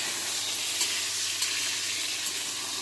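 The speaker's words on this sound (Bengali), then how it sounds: "চিনিগুলো ভেজে নিচ্ছি।" Potato and papaya pieces fry in hot oil for Bengali shukto, giving a steady, moderately quiet sizzle with a few faint stirring touches and no one talking.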